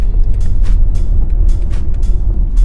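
Electric BMW iX SUV accelerating to overtake a van on a rural B-road in Laguna, its synthetic drive sound composed by Hans Zimmer forming a steady low rumble with road noise and repeated soft whooshing swells throughout.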